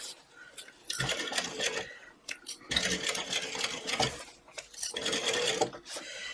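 A sewing machine stitches a backpack seam at quarter-inch allowance in sustained bursts broken by brief pauses, close and fairly loud, with a soft voice in the background.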